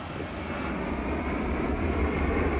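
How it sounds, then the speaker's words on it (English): Airplanes take off from an airport during a protest, a steady, loud jet engine roar that rumbles continuously and unbroken, with no voices. "Planes continue to take off with minimal delays"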